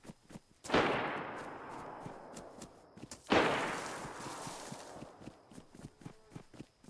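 Two loud gunshot blasts from a Brazilian survival video game, each with a long decaying echo, the first near 0.7 s and the second near 3.3 s, amid faint ticking and light footstep-like noises.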